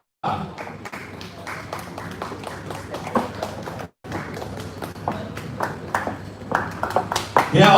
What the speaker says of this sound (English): They are all getting lazy to clap already